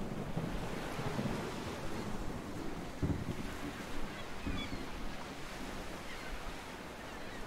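Sea waves washing steadily in the background of a tropical scene in a video game, a constant broad roar with gentle surges and no talk.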